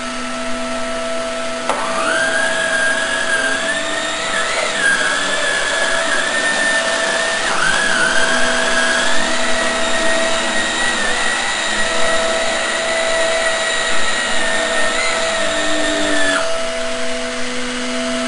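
A Shark Navigator NV22L upright vacuum cleaner whirs loudly and steadily with a high whine, its pitch shifting slightly as it moves, then winds down near the end.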